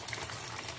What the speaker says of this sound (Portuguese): Colocar um pouco de água.